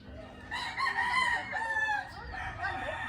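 A Rhode Island Gray rooster crows nearby, one long loud cock-a-doodle-doo with strained harmonic notes lasting about three seconds, with faint clucking and yard noise behind it.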